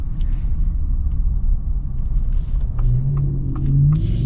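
A Ford Raptor R truck rushes past fast on the road, a deep rumbling roar that swells and then fades, heard alone with no talking.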